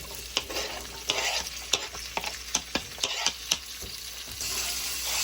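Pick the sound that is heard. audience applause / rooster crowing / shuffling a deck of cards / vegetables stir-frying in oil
vegetables stir-frying in oil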